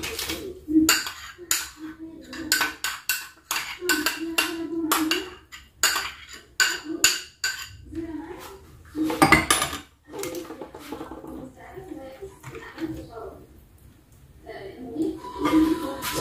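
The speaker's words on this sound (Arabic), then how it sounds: "صافي كنخلطوا هذا الشوفان مع هذه المقادير" Soaked oats are stirred into a mixture in a bowl, with a spoon or utensil making repeated clinks and scrapes against the dish in an uneven rhythm while someone talks.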